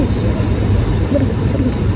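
Steady low engine drone inside an airplane cabin, a constant dull rumble filling the short stretch, with faint voices in the background.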